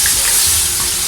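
Semolina and milk halwa is stirred and roasted in a pan, giving a steady soft hiss with faint scraping from the spoon. The sound is continuous and fairly loud, and no one speaks.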